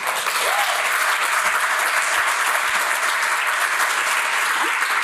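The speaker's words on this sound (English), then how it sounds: "I don't need to say this because everyone's already applauding" Audience applause at a talk on supporting child abuse survivors, a steady dense clapping that fills the room at constant loudness for the full five seconds, with no voices over it.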